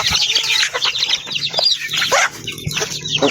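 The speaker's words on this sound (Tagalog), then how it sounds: "magpakain na naman tayo ng manok" A flock of farm chickens clucks and squawks loudly and close at feeding time, with overlapping calls and a brief rooster-like cry.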